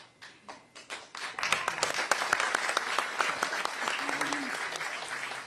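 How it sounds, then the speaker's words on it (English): Audience clapping at a Nikki Haley campaign town hall with voters, starting as scattered individual claps and quickly swelling into dense, sustained applause from the crowd. "Y'all are clapping like you already know what it is."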